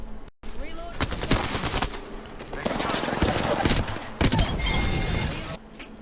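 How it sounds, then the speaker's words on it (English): Sentinel rifle fire in Apex Legends, heard as dense, rapid bursts of gunshots and sharp metallic clatter packed closely together, loud and almost continuous across the moment. "I hear a sentinel being shot in the background"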